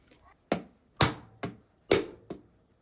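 A large water-filled coconut is struck open at home, five or six sharp hard knocks at uneven intervals, close and loud with brief decaying rings between blows.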